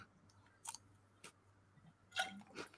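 Crisp, close crunches from biting into a small chocolate biscuit bar, a few separate bites with quiet chewing between them and no talking.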